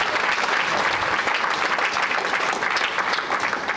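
A gathering at a training program applauds to welcome new members, a loud continuous roll of many hands clapping, close and unbroken, with no talk over it.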